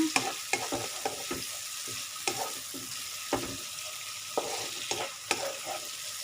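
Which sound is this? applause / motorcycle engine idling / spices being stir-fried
spices being stir-fried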